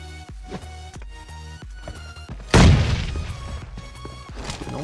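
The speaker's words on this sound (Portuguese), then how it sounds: "Vamos tentar jogar uma bomba nele?" A grenade blows up in PUBG, a sudden heavy boom with a rumbling decay about midway, after a series of soft rhythmic thumps and taps, with no voices.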